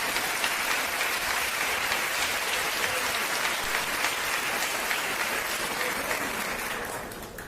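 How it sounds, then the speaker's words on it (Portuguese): A church congregation claps together in sustained, dense applause that holds steady for several seconds, then begins to fade at the end. "dá uma salva de palmas para a palavra de Deus"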